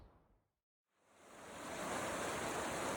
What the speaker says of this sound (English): And the Merced River, of course.